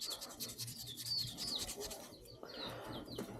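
Sandpaper rubbing rust and pitting off the exhaust of a Skygo Boss 150 motorcycle, a steady scratchy rasp running throughout with faint bird chirps in the background.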